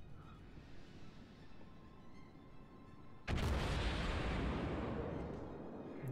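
Naval guns firing in World of Warships: after three seconds of low background rumble, one sudden loud broadband blast hits and then rolls on as a sustained, heavy booming roar to the end.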